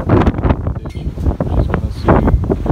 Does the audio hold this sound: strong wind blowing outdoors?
yes